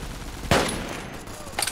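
Gunfire from the online FPS video game Army Troop: one sharp shot, then a quieter second burst near the end, over a low game ambience.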